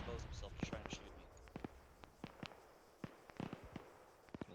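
Distant gunfire in a military video game, scattered faint sharp cracks and pops at irregular intervals, some in quick pairs, over a quiet background with soft low murmuring.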